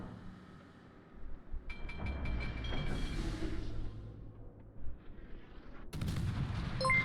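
Warship turrets fire on an enemy warship in a naval battle game, with several deep booming salvos and rumbling echoes set against a quieter sea-battle background, with no talking.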